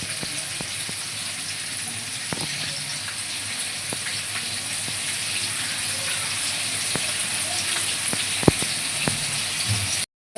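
Tomato frying in a pan for besan vade bhaji, a steady close sizzle with faint crackles and a few soft clicks running without a break, and no one talking.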